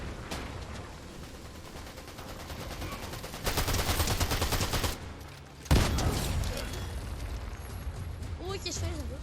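Rapid bursts of automatic gunfire rattle through a video game, dense and sustained with a louder stretch midway and a sharp blast after a brief lull, while a voice talks over the action.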